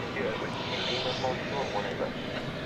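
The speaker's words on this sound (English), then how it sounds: "It looks to be American Flight 1399 to San Diego, an Airbus A321" American Airlines Airbus A321 rolling out for departure on runway 18 left at DFW at night, a steady engine roar with voices talking over it for the whole short stretch.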